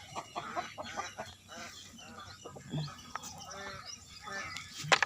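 Ducks on a farm quack and honk in an excited, overlapping chorus, close by and continuous, with a person speaking faintly among them.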